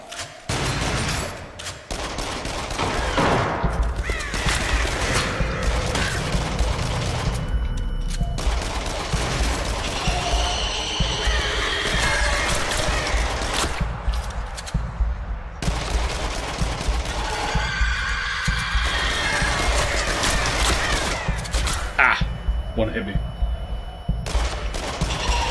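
Dense gunfire from the shooting gallery in Until Dawn: Rush of Blood, loud and continuous for the whole stretch, with bursts and rapid shots mixed with game effects and a voice talking over it.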